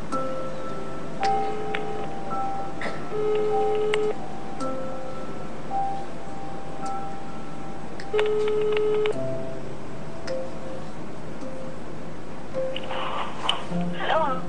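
A home telephone number dialed on loudspeaker: a sequence of distinct dial tones, some short and some held, over a steady background hum, with a burst of brighter sounds near the end.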